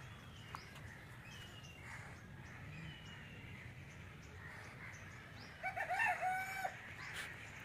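A jungle fowl rooster crows at Sanjay Gandhi Jaivik Udyan, Patna Zoo, one clear call rising near the end over a steady outdoor hum and faint background bird chatter.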